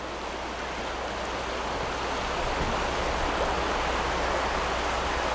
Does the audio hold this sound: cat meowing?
no